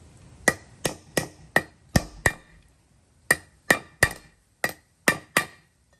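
A hammer drives a wheel bearing race into the hub of a Toyota 100 Series Land Cruiser, giving sharp metallic whacks close by in two bursts of about six and five blows, separated by a short pause.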